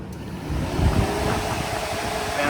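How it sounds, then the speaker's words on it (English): Electric radiator cooling fans kicking back on in a J35-powered sandrail, a steady broadband whoosh that holds at an even level throughout, swelling slightly early on with no talking. "Fans come back on."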